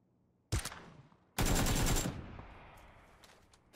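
Gunfire in the video game PUBG on console: two loud, close bursts of shots with a lingering tail, then a third burst starting at the very end, with no talk over them.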